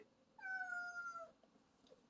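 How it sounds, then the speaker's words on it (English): A pet cat gives one clear, drawn-out meow lasting about a second, fairly close to the microphone against a quiet room. "that's my kitty"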